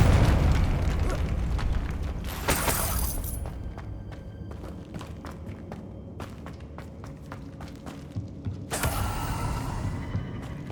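A Confringo blasting spell in Hogwarts Legacy sets off a loud explosive boom amid creaking, mechanical game effects, followed by clicking and a second bright burst.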